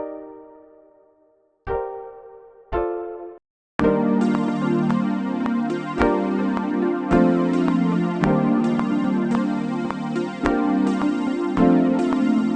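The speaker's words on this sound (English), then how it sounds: "So let's go ahead and play this Mystic Plug sound." Mystic Plug synth patch from Analog Lab played on a MIDI keyboard for an R&B beat: a few sparse sustained chords at first, then a steady, loud stream of layered chord stabs with a pulsing rhythm, with no voices.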